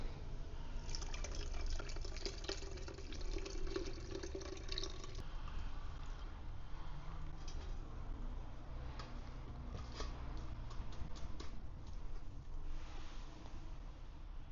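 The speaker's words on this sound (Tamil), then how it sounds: "பாருங்கள் எப்படி வருது. இப்போ நல்லா வடிகட்டி எடுத்துக்கலாம்." Fresh watermelon juice poured out and strained, a continuous trickling and splashing flow of liquid that stays fairly even and close for the full length, without any speech.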